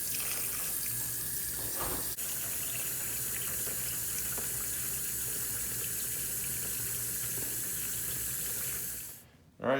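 Cold water streams steadily from a tap into a bowl being filled for soaking kimchi cabbage, a continuous even rush that stops near the end with a brief clatter.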